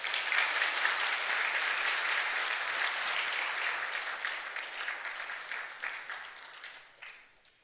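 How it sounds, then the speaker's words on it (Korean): Applause from a church congregation during a worship service, steady and full for several seconds before thinning out and fading toward the end. "우리 박수로 한번 축하하겠습니다."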